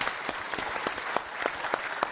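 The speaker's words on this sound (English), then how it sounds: "Let's give a round of applause to Maxis," Keynote audience at XDS 2019 applauding the company Maxis, makers of The Sims; a fairly faint but steady round of clapping with distinct, rhythmic claps from nearby hands over the crowd's wash.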